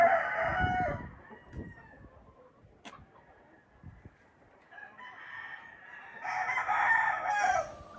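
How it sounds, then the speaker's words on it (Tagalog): Rhode Island Red and Barred Rock cross chickens on a farm, a rooster crowing loudly at the start and again toward the end, with scattered clucks and faint fowl calls in between. "So yan yung crosses natin ng Rhode Island at saka Bardrock."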